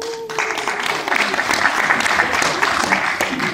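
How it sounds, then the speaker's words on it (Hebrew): Loud, sustained applause from a large crowd at a half-yearly Rotary club conference in Kfar Saba, steady dense clapping that swells and holds for several seconds, with faint voices mixed in. "המחיאות כפיים הם זה עבורכם,"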